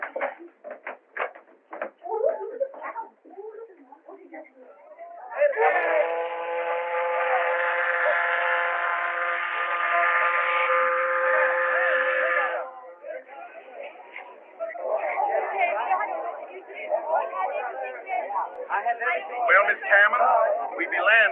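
A steady steam train whistle blows for several seconds, harmonic and sustained, with people talking before and after it.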